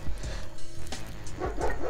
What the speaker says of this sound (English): my neighbor's dog, but he's barking in the backyard